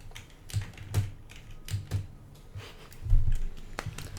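A computer keyboard is typed on nearby during a Roblox obby game, with separate clacky keystrokes and a heavier cluster of presses like the Shift key being held down, and no talking.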